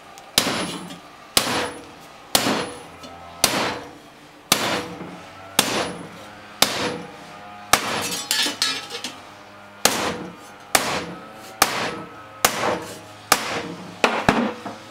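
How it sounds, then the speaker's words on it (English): Hammer blows on scrap metal strips being beaten flat to make an e-bike pannier rack, about fifteen loud, sharp metallic strikes in an uneven steady rhythm, close by with ringing decay between hits. "So I got it hammered flat enough."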